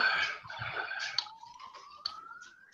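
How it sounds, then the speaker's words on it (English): An emergency vehicle siren, from an ambulance, fire engine or police car, wails as a steady rising tone through the second half, preceded by a burst of busy, jumbled noise and punctuated by a couple of sharp clicks. "There appears to be a lot of ambulances or fire engines or police cars"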